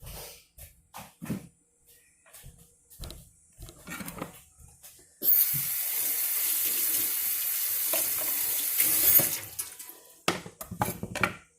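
A kitchen tap gushes loudly for about four seconds as a cutting board is rinsed under it, preceded and followed by scattered knocks and handling clatter of the board and dishes.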